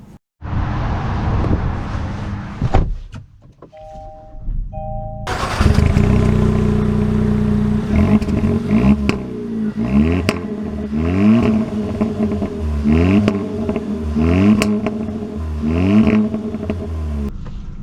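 A 2024 Kia Forte GT starting up after a brief door-and-chime moment, then driving off with its engine revving up and shifting repeatedly in rising sweeps, close and fairly loud, with no talk.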